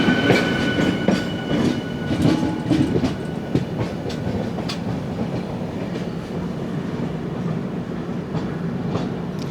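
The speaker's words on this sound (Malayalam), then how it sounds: "നമ്മുടെ കോയമ്പത്തൂർ ഷൊർണൂർ മെമു കയറി വരുന്നു" A Coimbatore–Shoranur MEMU electric multiple-unit train rolls in on the Palakkad line, with steady rumbling and repeated clickety-clack of wheels over rail joints, loud and close throughout.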